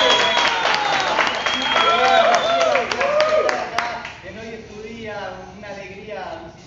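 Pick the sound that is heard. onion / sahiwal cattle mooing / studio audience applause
studio audience applause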